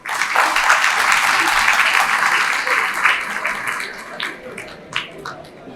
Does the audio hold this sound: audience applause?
yes